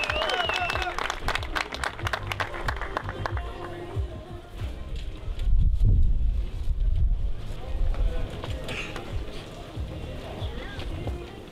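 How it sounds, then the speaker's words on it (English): Strong gusting wind roars across an outdoor disc golf course at a professional tournament, a steady broadband rush with a louder surge midway and faint crowd noise mixed in. "We see the wind ripping here on hole number 1 as James Conrad's off the tee."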